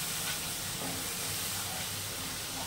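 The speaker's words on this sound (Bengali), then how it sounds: "এবার একটু জল দিয়ে দেবো, না হয় মশলাটা পুড়ে যাবে।" Water poured into a pan of frying spice masala while cooking a fish roe jhura sends up a loud, steady steam hiss and sizzle that fills the whole stretch with no talking.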